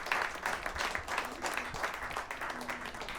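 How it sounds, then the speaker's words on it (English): Audience applause at a Friday jazz series concert for an Afro-Cuban jazz ensemble, a moderate, fairly steady patter of clapping heard from a middle distance across the whole stretch. "can we have a round of applause for their hard work preparing this stuff?"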